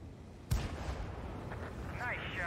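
A tank shell firing in Steel Hunter: one sharp loud blast, then low rumbling and a fainter thud, with a voice near the end over a steady engine drone.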